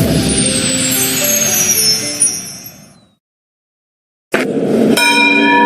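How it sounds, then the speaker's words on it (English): A large bell rings loudly with ringing overtones that fade into full silence, then it is struck again twice in quick succession and rings out close and clear. "The bell satisfies."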